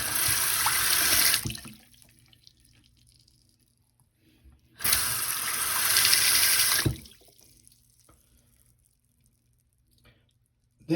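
Water pours into a sink and drains away after a vinegar treatment of a partly clogged drain, in two loud gushing bursts separated by quiet gurgles and drips.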